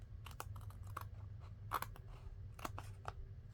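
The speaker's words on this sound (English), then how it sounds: "So I'll just try to trim that off a little bit without cutting my envelope open." Scissors trim the edge of a paper envelope with a handful of small, sharp snips in irregular succession, close but quiet against a low background hum.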